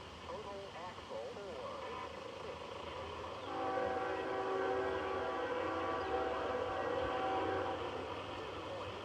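BNSF 7164 leading a long freight tanker train, its horn sounding in sustained blasts over the rumble and clatter of passing cars, loud and fairly close, with faint talk in the background.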